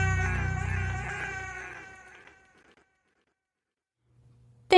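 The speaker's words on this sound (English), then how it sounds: "The cat sits down and lets out a quiet meow" A single quiet cat meow, drawn out and fading away over about two seconds, followed by near silence.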